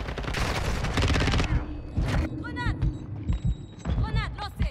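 Rapid automatic weapon fire in Call of Duty MW3, a dense burst of shots at the start followed by shorter bursts, with someone talking over it.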